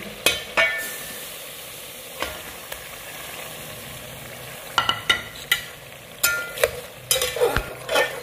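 A spoon scrapes and clanks against a pot as yogurt is stirred into a chicken handi, with irregular stirring strokes that grow busier toward the end over a low, steady sizzle; no one speaks.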